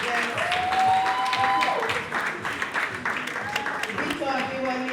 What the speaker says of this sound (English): Let's clap for them as they come to the front